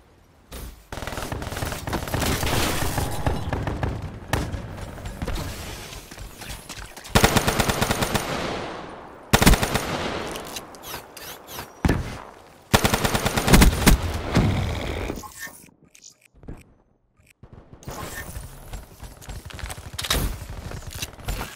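An enemy sentry gun in Call of Duty: Black Ops III fires long, loud automatic bursts, broken by short pauses and one near-silent gap before the firing resumes.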